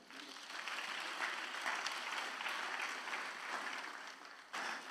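A church congregation at a solemn convocation claps in sustained, dense applause that holds steady for several seconds before swelling briefly again near the end.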